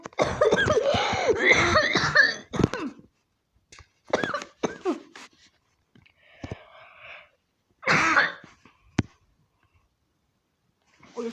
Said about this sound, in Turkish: Öksürüyorum ya boğazım ağrıyor.